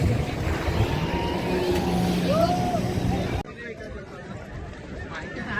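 A motorboat cruising on the sea off Malvan gives a loud, steady engine and hull roar with wind and water wash, and voices talk over it; partway through the sound cuts abruptly to a quieter, rougher engine rumble.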